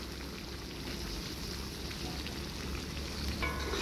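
Four sliced Bombay onions, cut into rings, cook in a spicy gravy of chicken liver and gizzard, giving a steady close sizzle and bubble throughout with no talking.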